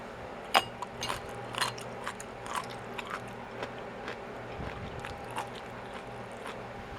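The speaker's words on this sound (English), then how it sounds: "hopefully you can hear the crunch that's still in the beet when I taste it" Close crunching bites into a fermented beet, with a sharp first crunch followed by repeated softer chewing crunches at an irregular pace over a quiet background.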